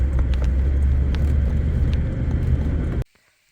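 A Toyota Troopy 4WD drives a rough sandy track, its engine and road noise a loud, steady low rumble that cuts off abruptly near the end.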